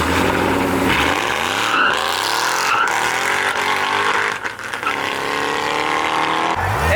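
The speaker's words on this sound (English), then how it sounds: "GT3. That UV purple sounded insane." A UV purple Porsche GT3 at a car show revs hard, a loud, high-pitched flat-six wail climbing and falling through several throttle blips, close by and continuous with crowd noise around it.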